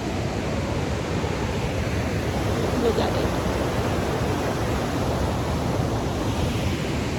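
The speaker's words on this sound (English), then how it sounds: "You can hear the sound of river." Steady broadband rushing of a river in the Smoky Mountains, constant and fairly loud throughout, with a brief spoken remark in the middle.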